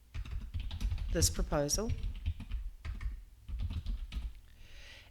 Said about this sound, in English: I can then type a message.